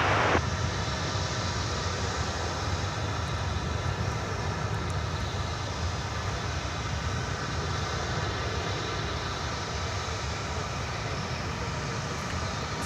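An American Airlines Airbus A319 takes off at Dallas Fort Worth airport, a steady distant jet roar with broad rumbling noise that holds level throughout, no talk over it.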